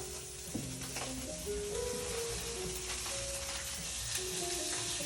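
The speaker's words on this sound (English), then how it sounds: "Oh yeah, we're getting a nice sear that we want." Steak sears in a hot pan for a steakhouse-style dinner, giving a steady close sizzle and crackle with a few light scrapes and clinks from stirring or moving utensils.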